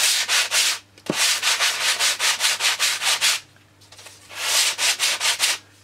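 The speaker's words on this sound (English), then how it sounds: "Sand across the joint. If there's any gap, the dust produced by the sandpaper" Sandpaper rubbed back and forth across a glued wing skin joint on a model aircraft, a steady rhythm of loud, close rasping strokes in two bursts separated by a brief pause.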